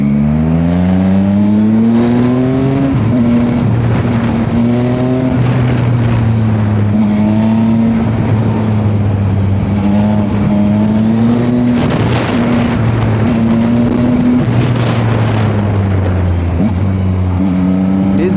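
A Yamaha MT-09 motorcycle engine runs steadily while riding, its loud droning tone rising and falling in pitch with throttle changes and wind rush throughout, continuous with no talk.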